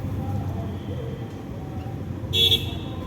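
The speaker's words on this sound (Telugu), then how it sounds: "ఆ రకంగా హార్న్ కొట్టుకుంటున్నారు" Holiday traffic on the road to Tirumala rumbles steadily, then a short, loud vehicle horn honk rings out near the end, close by.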